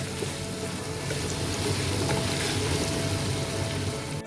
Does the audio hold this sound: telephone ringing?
no